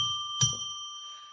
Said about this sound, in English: Why don't we ring a bell 3 times to declare sacred space